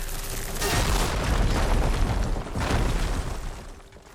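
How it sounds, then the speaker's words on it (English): An explosion in the Horizon Forbidden West video game, two loud rumbling booms in succession that swell and then fade away, with no talking. "An explosion."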